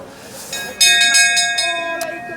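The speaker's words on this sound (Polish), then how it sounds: "Kto tu tak dzwoni? Ale gość ma dzwon." A large hand bell rings at a German flea market, a series of bright, loud metallic strokes with long ringing overtones that keep sounding under the chatter of the crowd.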